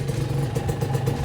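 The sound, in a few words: Honda NSR 150 SP motorcycle engine starting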